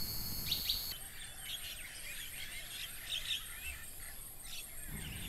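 Birds chirping in a forest, scattered high thin tweets and calls at a distance, faint over a steady background hiss, with insect-like buzzing mixed in.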